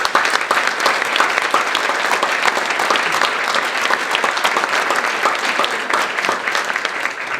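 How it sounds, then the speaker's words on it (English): Audience at an ethics essay award dinner gives a sustained round of applause for the protocol staff, dense steady clapping from many hands filling the room without a break. "If you could join me in a round of applause."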